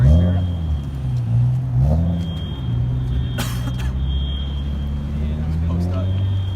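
An Aston Martin at a car meet rumbles steadily and close by, its engine note rising in a couple of brief revs over a constant low drone, with people chatting in the background.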